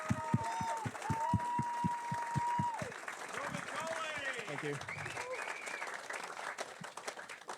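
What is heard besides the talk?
audience applause for class sponsor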